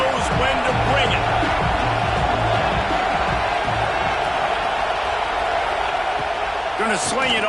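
A stadium crowd roars through a college football video game, a dense, continuous wall of cheering with a commentator talking over it and faint thumps in the background.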